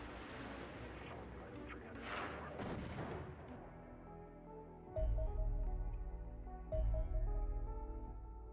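Plasma torpedoes fire at a cruiser during a Xenonauts air battle, a run of booming launches and impacts followed by two heavy, deep bursts and ringing electronic tones, loud and clear with no talk.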